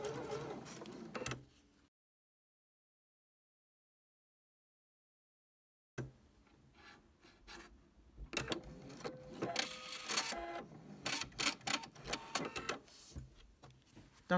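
A sewing machine stitches dark and light fabric strips for a log cabin courthouse steps quilt block. Its mechanical whirring starts, cuts to silence for several seconds, then resumes close up with uneven bursts and pauses.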